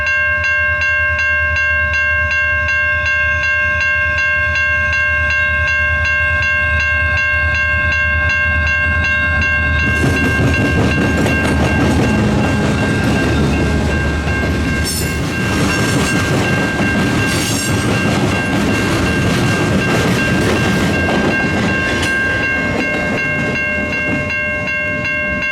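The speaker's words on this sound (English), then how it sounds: "It was a Grand Trunk paper unit SD40 long hood forward leading with an ICG caboose at the end." Grand Trunk SD40 diesel freight train leading long hood forward with an ICG caboose at the rear, opening with a sustained multi-tone horn before the heavy rumble and wheel clatter of the passing cars take over, loud and near.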